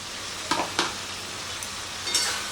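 Fried potato and jackfruit being stir-fried with spices in a pan under a steady sizzle. A few short, sharp clinks of a spatula or spoon stand out close by.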